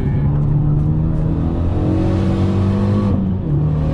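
A loud Renault Megane 3 RS engine revs and accelerates up close on the Clastres race circuit, its pitch rising steadily then dropping briefly near the end, with no speech.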